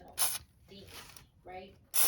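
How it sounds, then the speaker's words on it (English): Penetrating oil sprayed onto rusty lower control arm and sway bar parts of a 2004 Honda Odyssey, heard as short close hissing bursts with brief gaps between them. "I'm going to be using this deep penetrating oil, because these guys are rusty. I'm just going to spray all over this thing."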